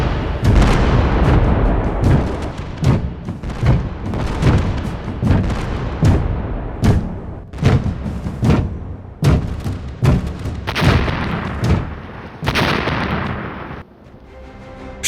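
Naval artillery bombardment at Gallipoli in 1915 pounds in a heavy, continuous barrage of booming blasts and rumbling explosions, loud and close, with sharp repeated impacts over a sustained roar and a quieter tail at the end.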